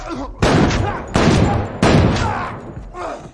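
Three sharp bursts of gunfire ring out close and loud in a tense film shootout, each blast followed by a decaying rumble, with a brief murmur of voices at the end.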